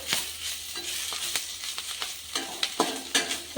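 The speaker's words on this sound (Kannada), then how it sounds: "ಸ್ವಲ್ಪ ಫ್ರೈ ಮಾಡಿಕೊಂಡು ತಗೊಳ್ಳೋಮ." Garlic and spinach frying in a pan, with scattered sizzling crackles and sharp scraping stirs of a utensil against the pan, moderately close, with no talking.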